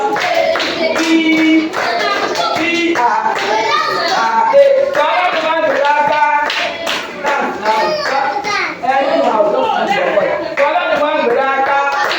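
Hand clapping during a children's nursery rhyme at a language school, with steady rhythmic claps beneath loud sung chanting by a group of children.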